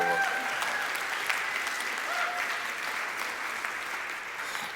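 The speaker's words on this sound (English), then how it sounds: "give our choir and band another round of applause" An audience applauds a choir and band at a church service, a dense, steady clapping that gradually fades as the ovation winds down.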